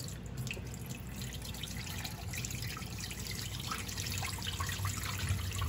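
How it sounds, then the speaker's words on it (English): Cilantro being rinsed in water, with running and splashing water pouring steadily at close range under a low constant hum, and no talk. "gonna rinse it. Throw this water away."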